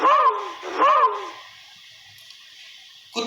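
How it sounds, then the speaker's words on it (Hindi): Two sharp barks from a dog, each a short loud harmonic burst in quick succession, followed by a quiet trailing background. "कुत्ता की आवाज।"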